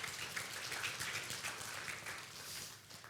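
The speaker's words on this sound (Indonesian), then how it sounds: "Kasih tepuk tangan buat Tuhan Yesus kita." A church congregation applauds in a faint, distant, continuous patter that stays even throughout.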